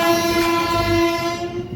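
An express train crossing at Parbhani railway station, with a loud sustained horn tone over rumbling, clattering wheels close by and no talking.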